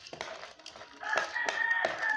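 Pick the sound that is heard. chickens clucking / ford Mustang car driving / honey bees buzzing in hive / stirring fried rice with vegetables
chickens clucking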